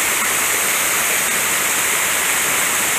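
A mountain waterfall on a small forest stream gives a steady, loud, broad rushing roar, unbroken and close, with no voices.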